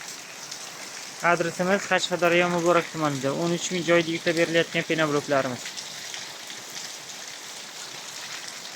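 Heavy rain pours steadily outside a house built of foam-concrete blocks, a constant hiss of falling water that runs beneath someone talking for several seconds and continues alone afterward.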